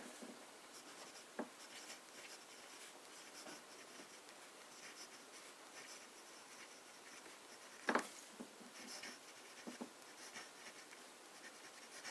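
A Cross fountain pen with a medium nib scratches across paper in soft, faint strokes, with one sharper scrape partway through, close up and with no talk.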